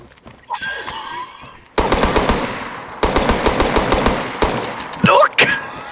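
Rapid automatic gunfire bursts from a shooter video game, loud and close, coming in several rattling volleys with short gaps, while players talk excitedly over the shots.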